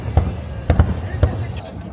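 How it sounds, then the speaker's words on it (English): Fireworks bang in the distance at a Halloween night event at Disney's Fort Wilderness campground, several muffled low thuds spaced unevenly over an outdoor crowd murmur. "Pretty majestic with fireworks going off in the background."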